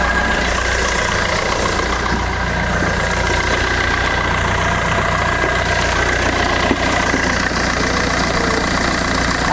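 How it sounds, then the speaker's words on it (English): A Fiat Doblo engine idles steadily after an oil sump replacement, a constant, even running hum with a slight rough mechanical edge, close and continuous throughout with no talk. "Oh, that sounds so much better."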